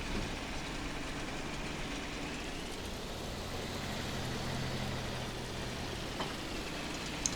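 A T-150 tractor engine in Farming Simulator 22 drones at a steady idle, a constant low, even engine hum with no talk.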